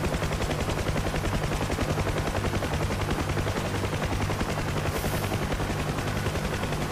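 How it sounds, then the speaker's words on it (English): A UH-1H Huey helicopter in Digital Combat Simulator thumps its rotor in a fast, steady chop that stays loud and unbroken throughout, with a low droning hum underneath. "Damn helicopter's coming back around again."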